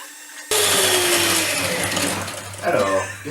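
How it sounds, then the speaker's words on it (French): An electric hand whisk starts abruptly and whirs loudly and steadily as it beats butter and sugar, with its pitch wavering toward the end and a voice speaking over it. "Et le fouet électrique."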